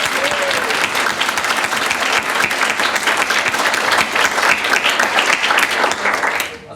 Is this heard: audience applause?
yes